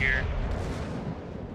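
A deep, rolling boom from battleship guns in World of Warships, loud at first and then tailing off into a low rumble.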